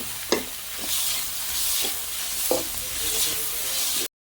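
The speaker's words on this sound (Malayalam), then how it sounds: "നമ്മൾ വൃത്തിയാക്കി വെച്ചിരിക്കുന്ന കക്ക ഇതിലേക്ക് നല്ലതായിട്ട് മിക്സ് ചെയ്യാം." Cleaned clams are stirred and fried in a pan: a loud, continuous sizzle broken by several sharp scraping clunks of the spoon against the pan, with a brief cut to silence near the end.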